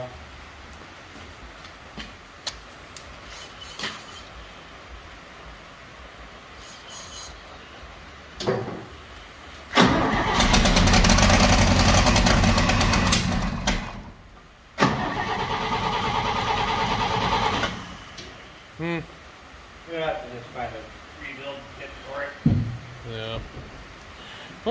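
An old 1956 International S-160 tractor engine cranks and sputters, catches and runs roughly for a few seconds, dies, then fires again briefly, with people talking around it.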